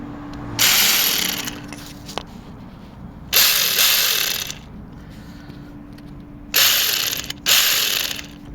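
Ratchet wrench removing Torx 30 bolts from the turbo pipe of a VW Golf Mk6 1.6 TDI, heard as three bursts of rapid close clicking separated by pauses, with no talk.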